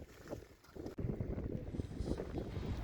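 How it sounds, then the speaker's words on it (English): Gusty wind buffets an outdoor microphone on a fishing trip, a low rumbling roar that swells and drops in uneven bursts throughout, with no speech. "Sorry for the wind, folks."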